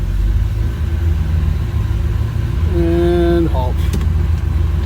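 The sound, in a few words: Pontiac LeMans engine idling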